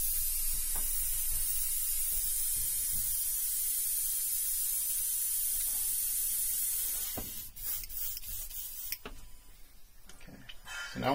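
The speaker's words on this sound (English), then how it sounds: "I'm going to clean up this airbrush real quick." An airbrush sprays acrylic paint cleaner in one long, steady, close hiss for about seven seconds, then cuts into short sputtering bursts and clicks as the cleaning goes on.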